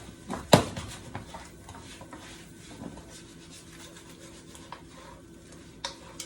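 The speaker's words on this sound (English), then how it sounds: "we're gonna stir up all of this so that garlic butter sauce can be all over the wings" Garlic butter sauce gets stirred into chicken wings in a pan on the stove, with a sharp utensil knock at the start, then soft scraping and light sizzling that continue quietly.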